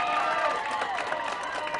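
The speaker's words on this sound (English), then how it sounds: "Just cheering each other on, high fives." A high school bowling team cheers and high-fives one another at a state tournament, a steady burst of crowd cheering and applause with mixed voices.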